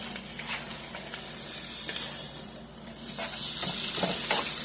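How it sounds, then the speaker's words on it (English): Meat frying in a pan with onions for cheesesteak fries gives off a steady, close sizzle and hiss that swells louder toward the end, with no voices. "So we just let our meat cook down"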